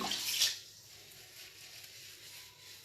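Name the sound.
cold tap water running for rinsing face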